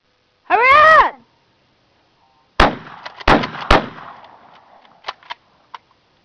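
Gunshots at an outdoor shooting range, three loud sharp reports in quick succession with echoing tails, then fainter pops, preceded by a brief voiced yelp.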